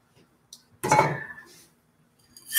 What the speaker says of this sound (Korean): 이렇게 씻어놓은 쌀을 냄비에 붓고요